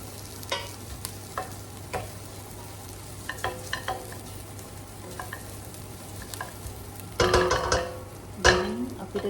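Chilli pieces sizzle softly in hot oil in a pan, with scattered scraping and tapping as they are stirred, the stirring growing louder toward the end.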